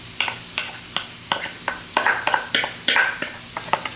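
Chopped yellow onion stirred into a hot roux for crawfish étouffée, heard as repeated rhythmic spoon scrapes over a steady crackling sizzle, close and fairly loud, with no talking.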